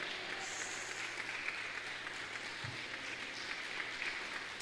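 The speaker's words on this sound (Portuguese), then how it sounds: "Dê um aplauso para Jesus, que Ele merece." A church congregation applauds, a quiet, distant and steady wash of clapping throughout.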